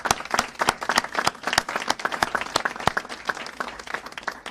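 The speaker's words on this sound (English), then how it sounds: "I think he deserves a round of applause." Audience applause for a state governor at a bill-signing event: distinct, crisp hand claps from a modest crowd, irregular and fairly close, continuing for several seconds without speech.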